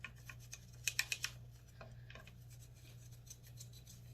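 A toothbrush scrubs metal shavings out of an AK-47 rifle: faint, soft bristle rasps and a quick cluster of small clicks over a steady low hum, heard close and quiet.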